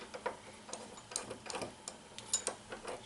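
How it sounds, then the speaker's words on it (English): Metal clicks and ticks of a shell plate bolt being loosened and removed from a Dillon RL550B reloading press, a run of small, close, irregular mechanical taps and ratcheting clicks, faint and without talk. "So the shell plate bolt comes out, and that's what that looks like."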